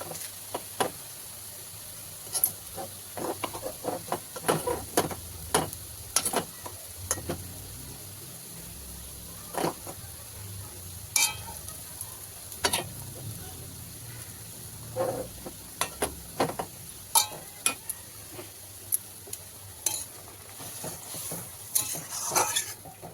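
Prawns going into a pan of giant taro curry, with scattered clinks and scrapes of a spoon stirring against the pan over a low cooking hiss, close and fairly quiet, no talking.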